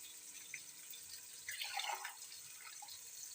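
Water poured into a pot of rice being cooked for bagara rice, a faint splashing trickle against a low background hiss that swells briefly in the middle, with no voices.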